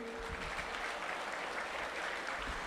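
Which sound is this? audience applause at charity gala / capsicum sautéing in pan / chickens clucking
audience applause at charity gala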